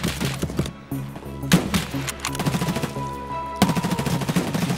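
Bursts of gunfire in Escape From Tarkov: several sharp single shots followed by rapid automatic volleys, loud and close, with ringing tails between the cracks.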